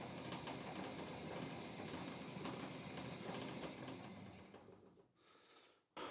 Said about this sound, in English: Still have to wiggle the gearbox a bit for changing gear, but here's high speed.